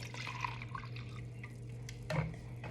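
Two cups of vinegar pour into a bowl, a soft, steady trickle with small drips and splashes and a low hum beneath, at close range.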